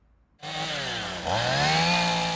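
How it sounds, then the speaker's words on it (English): A chainsaw starts up abruptly and runs loud and close, its engine revving higher as it cuts through ice-storm-felled tree trunks and branches in a backyard in Fenelon Falls. "sawing through the tree trunks and branches in the backyard of his family's home in Fenelon Falls"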